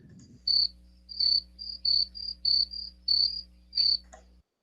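A recorded cricket sound is played into an online class: about eight clear, shrill chirps come in a fairly even rhythm over a low steady hum, then cut off abruptly, with no talking.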